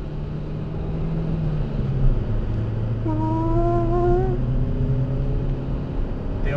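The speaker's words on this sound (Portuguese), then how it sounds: "Tem um carro mexidão, tio. Anda pra caralho." A modified car in Curitiba, Paraná, roars past with a rising engine note that climbs in pitch as it accelerates, loud and close over steady street noise.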